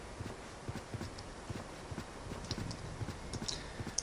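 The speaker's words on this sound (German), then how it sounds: "Und wir reiten wieder über die weiten Steppen der Gemeindlande" Rhythmic clip-clop of horse hooves from riding in the online role-playing game EverQuest 2, steady walking gait with even evenly spaced thuds, close and moderate, with faint game sounds above.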